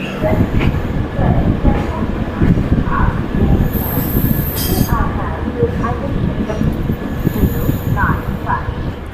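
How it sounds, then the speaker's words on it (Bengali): A train departing Ujjain Junction rolls along the tracks with rhythmic wheel clatter and occasional high metallic squeals, loud and close from inside the carriage. "আমাদের ট্রেনটি এখন উজ্জয়ন জাংশন স্টেশন থেকে ছেড়ে দিল"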